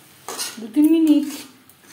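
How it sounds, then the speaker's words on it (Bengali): A spatula scrapes and clinks against a pan while peas ghugni is stirred over a high-medium flame, with a brief metallic ring mid-way and a soft sizzle underneath, no talk. "হাই টু মিডিয়াম ফ্লেমে নাড়াচাড়া করে নেব।"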